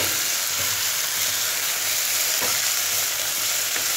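Fenugreek leaves sautéing in hot oil for dal methi, giving a dense, continuous loud sizzle with a few faint stirring clicks and no voices.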